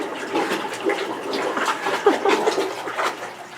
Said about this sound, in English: Ooh, I gotta mix it.